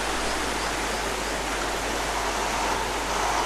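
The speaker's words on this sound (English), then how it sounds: "This is the river itself. Fast flowing, swift, icy cold and absolutely beautiful water to drink." A fast, icy mountain river rushes in a loud, continuous broadband roar of churning water, steady and close, with no voices.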